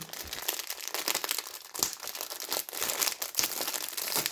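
A plastic packet of small stencil sponges is torn open and handled up close, giving loud crinkling, crackling plastic rustles with short rips and irregular bursts, no voices.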